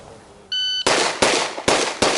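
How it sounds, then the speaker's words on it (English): Four pistol shots ring out at a shooting range, sharp and loud, spaced evenly in a quick bang-bang-bang-bang rhythm, preceded by a brief electronic start beep. "I want it to sound like 4 shots."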